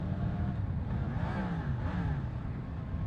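A Yamaha MT-10 motorcycle on the move, its engine note rising and falling through gear changes beneath steady wind rush, loud and close with no talk.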